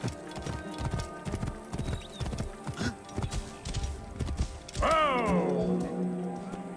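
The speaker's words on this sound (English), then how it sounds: "Let's get a horse." Horse hooves clip-clopping at a gallop in the video game Assassin's Creed Origins, a steady rapid patter of hoofbeats that ends in a loud, drawn-out neigh. No one speaks.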